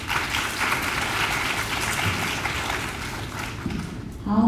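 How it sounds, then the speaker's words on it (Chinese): Audience at a youth working-holiday information session in Taipei applauds steadily and fairly loudly for several seconds. The clapping thins near the end as a voice begins speaking. "那我们是不是再次给他们一个热烈的掌声？"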